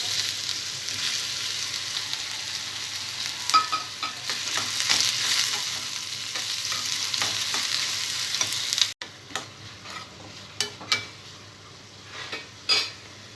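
Ridge gourd pieces frying in hot oil in a pan, a steady sizzle with scraping stirs and clinks of a utensil against the pan, louder at first, then quieter with intermittent stirring.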